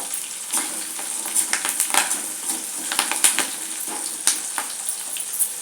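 Three dried red chillies fry in a pan while sambar rice is cooked, giving a continuous crackling sizzle with irregular spitting pops and soft stirring scrapes, close and alone with no talk.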